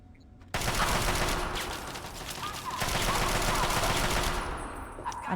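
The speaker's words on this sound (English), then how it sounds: "I'm just shooting the wall." Gunfire in the video game Fallout 3, a weapon firing at a wall in sustained rapid bursts, loud and dense, opening abruptly and tailing off near the end.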